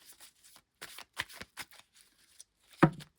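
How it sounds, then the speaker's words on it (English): A deck of oracle cards is shuffled by hand in a quiet room, with a series of soft, close riffling and sliding bursts at irregular intervals and a louder flick near the end. "I'm just shuffling up these cards"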